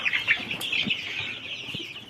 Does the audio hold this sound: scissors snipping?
no